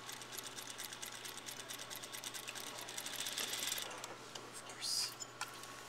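A sewing machine takes a few stitches and reverses on a skirt waistband seam, a fairly quiet, rapid ticking run that swells briefly near the end.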